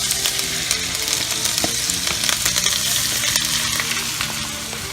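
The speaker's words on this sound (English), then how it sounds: "we should put in the shrimps" Shrimp fry in a pan for shrimp scampi, giving a loud, steady sizzle with crackles and occasional stirring clatter throughout, no voices.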